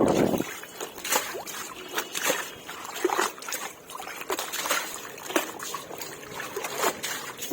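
Water splashes, trickles and sloshes continuously as household items are washed by hand, with steady irregular splatters up close.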